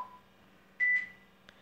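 Beep from the racing game Stickman Racer Road Draw, a short, clear electronic tone heard alone at moderate loudness, preceded by a faint lower tone and followed by a tiny blip.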